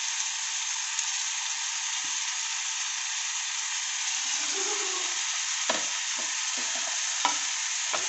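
Mushrooms fry with pepper powder in a pan, giving a steady close sizzle throughout, with a few scraping stirs of a spoon against the pan near the end.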